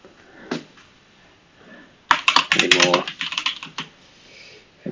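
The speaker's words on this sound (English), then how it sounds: "or maybe I'll type." Fingers type on a computer keyboard in a quiet room, a brief faint click first, then a dense burst of rapid keystrokes for about a second, trailing off into a few scattered taps.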